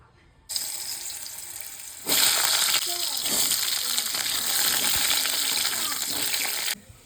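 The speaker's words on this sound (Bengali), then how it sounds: "এই যে ডিমগুলো আমার ভাজা হয়ে গেছে, এখন আলু ভাজবো।" Potatoes frying in hot oil in a home kitchen, a dense steady sizzle that starts abruptly, grows louder after a couple of seconds with some stirring, then cuts off near the end.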